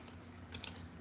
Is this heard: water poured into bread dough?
no